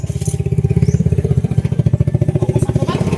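A Yamaha Mio Soul i 115 scooter engine idles nearby with a steady, rapid, throbbing rhythm and a rattly mechanical edge.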